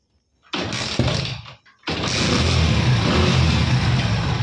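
A Hero Splendor motorcycle engine with a recently replaced clutch plate that still lacks pickup catches after a short false start, then settles into a loud, steady revving drone close by, with no talk over it.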